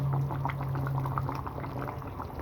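Chicken curry with whole green chilies simmers in a pot, a continuous bubbling boil with soft popping and a faint steady hum, close and moderately loud with no voices.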